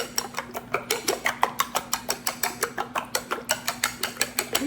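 Eggs whisked briskly in a bowl with seasonings, the whisk clicking against the sides in a steady, rapid rhythm of sharp metallic taps, close and fairly loud with no talking.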